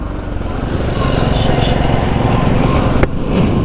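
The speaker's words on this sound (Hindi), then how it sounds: "बड़ा बेढंग तरीके से ये बाइक चला रहा है" A motorbike ridden erratically through traffic, its engine droning steadily and fairly loud throughout, with other road noise around it and a brief sharp knock near the end.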